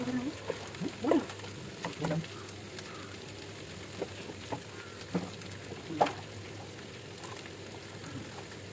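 Meat is browned with ginger garlic paste in a pan, giving a quiet, steady sizzle with scattered small pops and ticks over about nine seconds.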